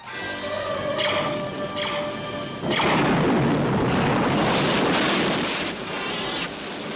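Starship weapons fire in the Star Trek film The Wrath of Khan: rising electronic tones, then a heavy, loud booming blast with roaring rumble sustained for several seconds before easing.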